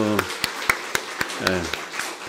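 A church congregation at a Thanksgiving service claps in a steady, evenly spaced rhythm of sharp, close hand claps while someone speaks over it.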